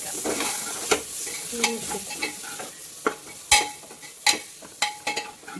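Tomatoes sizzle as they sauté in a pressure cooker for chicken biryani, with a continuous close frying hiss broken by sharp spoon clacks and scrapes against the pot.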